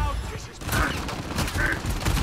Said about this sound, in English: I'm getting shot from like all over the place, bro.